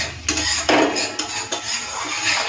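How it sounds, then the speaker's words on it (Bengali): Ground mustard paste being stirred into masala in a pan, heard as a few close metallic scrapes and clinks of a spoon against the pan over a soft background hiss. "এই যে তো সর্ষে বাটাটা দিয়ে মশলার সাথে ভালো করে কষিয়ে নেব।"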